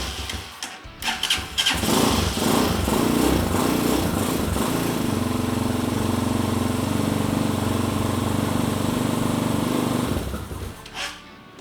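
A Hawk 250 motorcycle engine cranks and catches, then runs on choke in a steady, loud, close idle for about ten seconds before cutting off, with no talking over it.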